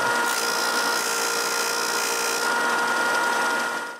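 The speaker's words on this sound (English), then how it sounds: "Then I clamp a square on the disc sander. And with this square, I sand one end of the molding perfectly at 45" A disc sander grinding the 45-degree end of a wooden molding, held against a square clamped to the sander, producing a loud, continuous abrasive whine that fades at the end.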